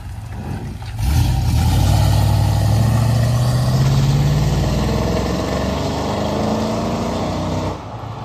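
A big truck's engine rumbling low and steady after being shifted into gear, loud and close, with a rising drone as it pulls away and no talking.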